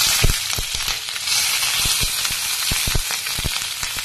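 Mustard seeds splutter in hot oil with green chillies, a constant close hiss of frying broken by sharp, scattered pops and crackles throughout.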